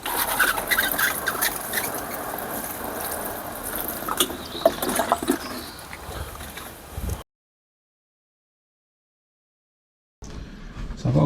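Water poured over freshly sown tomato, cucumber, chilli and sunflower seeds in trays, a close trickling, splashing patter that stops abruptly partway, leaving a few seconds of silence before brief noise returns.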